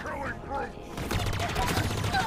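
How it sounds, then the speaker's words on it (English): Pulse carbine fire in a Halo campaign comes as a quick burst of rapid crackling shots, loud and close, mixed with other game sounds over about two seconds. "I haven't had a full pulse carbine burst hit me like that the entire campaign so far"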